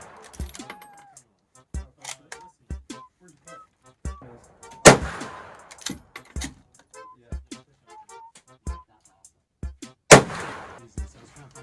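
Single rifle shots at a shooting range, sharp and spaced a second or two apart, with two louder, heavier reports standing out, set against quiet handling clicks and faint background noise.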